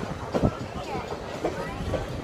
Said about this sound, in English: are you on a train ride?